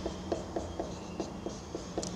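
A pen writing on paper while working out a maths problem, heard as soft, close, scratchy strokes tapping out in a quick, fairly regular rhythm against a quiet background.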